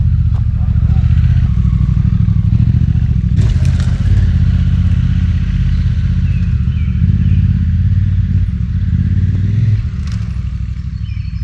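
A Honda motorcycle pulls away from a dispersed campsite, its loud, steady engine rumble continuous and close throughout, with a brief clatter partway through and the note easing slightly near the end.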